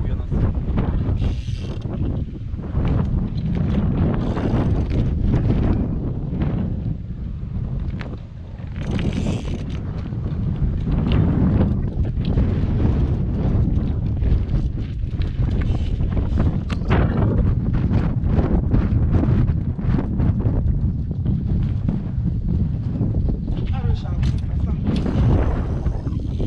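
Strong wind by a choppy sea buffets the microphone in constant low roaring gusts throughout, while someone talks over it.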